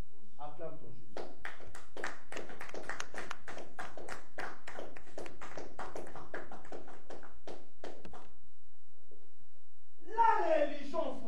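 A church congregation bursts into rhythmic, sustained applause in praise of Jesus, dense clapping rising and holding for several seconds before stopping, followed by a brief voice afterward.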